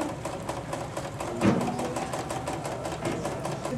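A sewing machine runs steadily while stitching a layered zigzag applique design, a continuous close mechanical whir with a quick regular needle rhythm and no talk.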